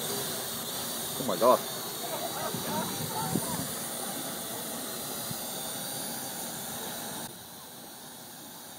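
A small drone lifts off with a steady, high whirring hiss from its rotors. The sound holds level for several seconds and then drops in loudness, and a person briefly exclaims over it early on.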